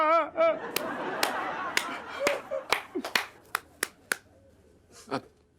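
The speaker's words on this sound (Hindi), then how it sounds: "तालियां।" An audience breaks into scattered hand claps: about a dozen sharp, separate smacks in an uneven rhythm that thin out and fade, with a brief voice at the very start.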